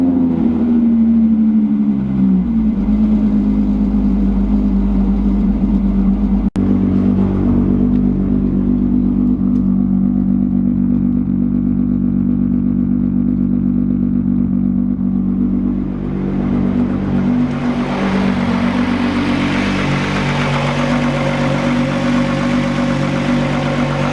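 VR6-engined cars, a 2.8L 12-valve and a 3.2L R32, idle with a deep steady rumble, then build into rising revs as they pull away, loud and close with no talk.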